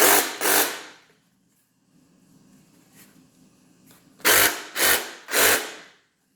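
A Porter Cable 20V cordless reciprocating saw runs in short loud bursts close by: two at the start, a quiet gap, then three more in quick succession.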